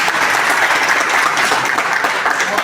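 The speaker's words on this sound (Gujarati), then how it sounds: "ત્યારે આપણે બાપુનો આભાર માની તાળીઓના" Audience applause at a Ramdev Pir temple gathering of the Rabari community in Vadnagar, a dense, steady clapping from a large crowd sustained loudly throughout.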